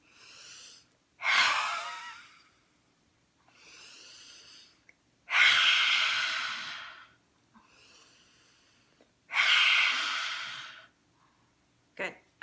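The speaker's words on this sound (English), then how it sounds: "this is where we stick out our tongue and we're breathing in through the nose and then out through the mouth" Three loud, forceful breathy exhales with the tongue out, each lasting about a second, alternating with quieter nasal inhales during a yoga breathing exercise.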